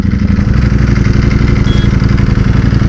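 Ducati V4 motorcycle engine running loud and close while being ridden, a steady throbbing low rumble with a rapid pulsing beat and no voices.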